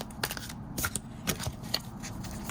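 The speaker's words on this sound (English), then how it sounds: "So I'm going to shuffle." Large tarot cards are shuffled by hand, producing a string of soft papery riffles and flicks in uneven bursts, close up and quiet with no talking.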